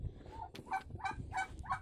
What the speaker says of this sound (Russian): Ой, какие бои индюши.